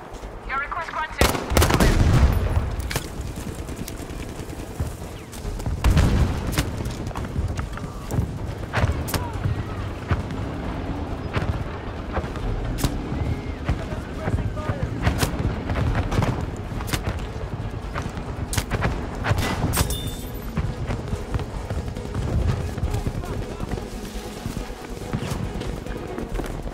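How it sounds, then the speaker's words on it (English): Battlefield 5 Conquest battle soundscape with artillery barrage explosions and scattered gunfire, a dense, continuous rumble punctuated by sharp booming impacts throughout, with radio-style voices talking over it. "This is a request for an artillery barrage."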